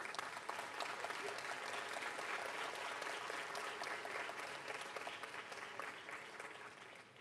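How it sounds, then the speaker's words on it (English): A crowd applauds at a university graduation convocation. Many hands clap in a thick, continuous wash that sounds fairly distant and soft, then thins slightly toward the end. "Let's give them our warmest round of applause."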